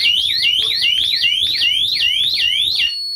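A DESİ HS102 Metaline alarm panel sounds while being armed, a loud, close electronic warble that repeats rapidly in rising sweeps for about three seconds before cutting off.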